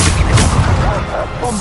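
A Bombarda explosion spell going off in a Harry Potter video game, a loud, dense burst of blasting noise that fills the whole short moment, with a rumbling low end.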